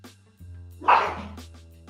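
A new puppy lets out a short yip or bark indoors over a steady low electrical hum, close and moderately loud, with a few quieter sounds following.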